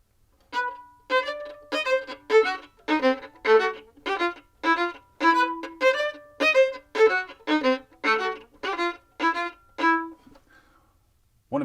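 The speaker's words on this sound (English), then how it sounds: "Short, long sounds like this." A solo violin works through a Schumann Symphony No. 2 excerpt in short-long rhythm practice, about a dozen bowed notes in a lilting uneven pulse, close and clean, with no voice over it.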